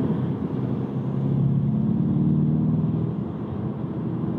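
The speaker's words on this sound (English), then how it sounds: "the TDI engine accelerates from very low" A Volkswagen Scirocco TDI diesel engine pulls from low revs, a steady low rumble heard from inside the car that swells slightly and then eases, with no talk.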